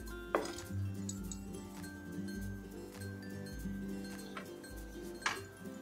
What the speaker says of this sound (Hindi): एक बार फिर कढ़ाई रखते हैं।